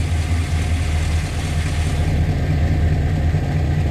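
A squarebody Chevrolet K10 truck with a swapped, non-original engine idles steadily with a slightly hunting, uneven rumble, heard up close and alone for a few seconds.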